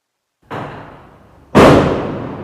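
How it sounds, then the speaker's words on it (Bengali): Two loud firecracker bangs go off on New Year's Eve, each a sharp blast followed by a decaying rumble, the second nearer and more forceful than the first, with no voices. "পটকা ফোটানো হচ্ছে, বাজি ফোটানো হচ্ছে, আতশবাজি ফোটানো হচ্ছে"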